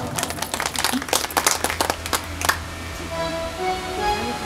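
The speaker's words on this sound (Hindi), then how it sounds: "आप लोग बहुत ध्यानपूर्वक कथा सुन रहे हैं, जोरदार तालियां आपके लिए" Audience applause at a Hindu scripture recitation of the Bhagavat Purana, with a burst of clapping from a gathered crowd over the first two and a half seconds, then fading into low room hum and a sustained tone.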